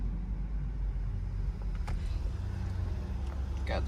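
A newly bought car on the road gives a steady, close low engine and road rumble that fills the whole stretch, with a couple of faint ticks and brief sounds from inside the cabin.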